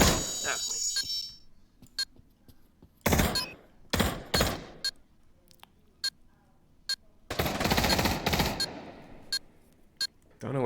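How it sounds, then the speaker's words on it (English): Gunfire in a VR multiplayer shooter match: bursts of rapid automatic shots and single sharp cracks, some loud and close, some fainter, scattered irregularly with brief silences between, with voices talking over parts of it. "Don't know what Kiwi's shooting at right now."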